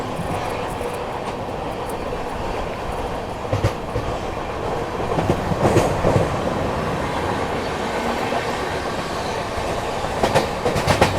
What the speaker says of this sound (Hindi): सामने से आ रही है 12566 न्यू दिल्ली दरभंगा बिहार संपर्क क्रांति आती हुई